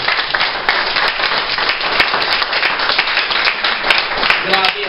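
A church congregation at a charismatic prayer gathering claps loudly and steadily, with crisp individual hand claps standing out within the crowd. Voices mingle with the clapping, and a brief tonal sound rises near the end.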